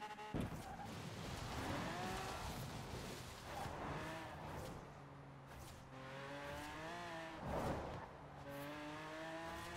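A King Cobra drag racer in Forza Horizon 4 roars at speed, its engine note climbing through gears in steady rising sweeps with brief shifts, loud and continuous throughout.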